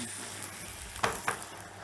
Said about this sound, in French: là je vais verser un peu de cognac